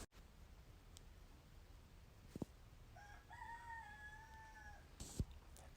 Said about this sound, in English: My roosters will not stop crowing.